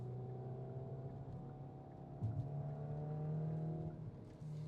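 A Hyundai i20N manual hot hatch engine holds steady revs in second gear at around 4,000 rpm, a loud, continuous droning note with a brief dip and step up midway, heard from inside the cabin alone.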